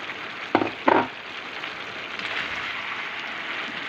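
Chicken meat frying with onions in a pan sizzles steadily up close, broken early by two sharp scraping stirs of the pan before the even crackling hiss continues alone.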